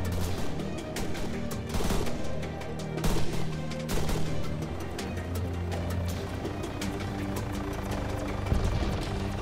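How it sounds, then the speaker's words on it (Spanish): Arma 3 gameplay in a King of the Hill battle carries scattered gunshots and bursts of automatic fire, some sharp and nearby, others distant, over a constant background rumble. "Hay tiros aquí delante."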